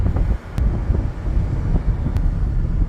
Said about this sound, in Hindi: मौसम बहुत अच्छा है, ठंडी ठंडी हवा चल रही है।